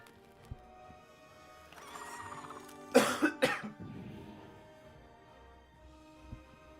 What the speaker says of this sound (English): trying not to cough so loud in the microphone